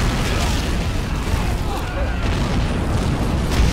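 Rocket artillery explosions from Nebelwerfer launchers in the Army Men of War strategy game, heavy booming blasts rolling continuously at close range, with a voice talking over them.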